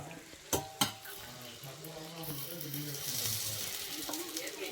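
Jaggery ariselu, rice sweets, frying in hot oil: a soft steady sizzle with a couple of sharp clinks of a utensil near the start, fairly faint and close.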